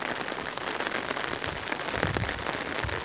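Steady, dense rain patters down beside an overflowing sewer pipe that drains into a storm pipe leading to a lagoon, a continuous close hiss with no voices.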